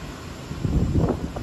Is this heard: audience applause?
no